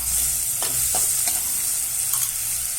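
Bitter gourd and onions sauté with salt in a pan for a spicy tamarind kuzhambu, giving a constant hissing sizzle with a few faint scrapes of stirring underneath, close and without talk.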